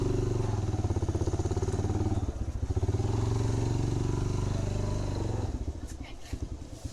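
A motorbike idles steadily up close in a parking area, its low, even putter running under faint talk before the engine note drops and shuts off near the end.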